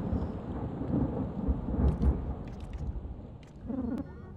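In the video game Lisa: The Painful RPG, rain pours steadily while low thunder rumbles and rolls, with a few crackling bursts rising above the downpour.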